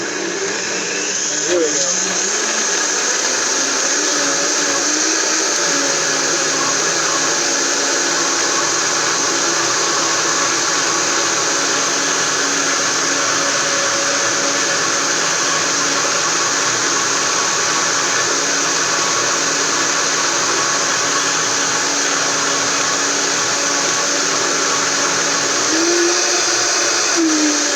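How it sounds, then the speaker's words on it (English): A blender runs steadily at high speed, pureeing sofrito in a cooking demonstration for International Chefs Day; the loud, continuous whir holds for the whole stretch while a voice speaks briefly over it near the start. "so now we have all of our sofrito is pureed up"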